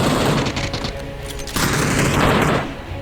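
Loud explosive blasts and rapid gunfire boom in quick succession, two heavy bursts filling the clip with rumbling noise: a grenade explosion in the video game PUBG.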